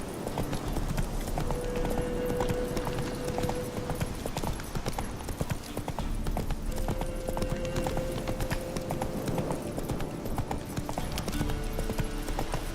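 Roach, a horse in The Witcher 3, trotting with steady rhythmic clip-clop hoofbeats on the ground, continuous and fairly close, a soft neigh now and then and no talk over it.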